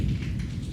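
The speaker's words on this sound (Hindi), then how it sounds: "पिछले आई थिंक 3 घंटों से कंटिन्यूस बारिश शुरू हुई है, अब तक बंद नहीं हुई" Heavy, continuous rain that has been falling for hours, a steady dense hiss of downpour with no clear thunder, heard alone and close.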